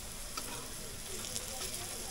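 Food frying in a pan gives a steady, quiet sizzle and crackle throughout, with a few faint stirring clicks and a little soft talk in the background.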